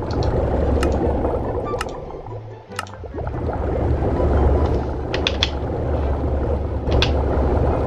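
Minecraft washing machine built with commands gives a steady churning, sloshing mechanical rumble with ratcheting clicks and occasional bubbly pops, continuous and fairly loud throughout.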